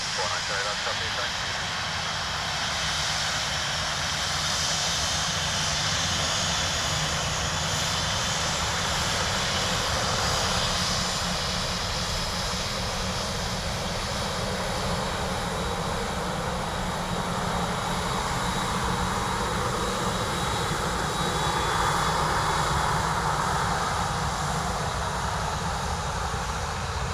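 A Ryanair airliner arriving from Seville at Dublin Airport produces a sustained, broad engine roar that stays loud and steady throughout, with a faint radio voice underneath.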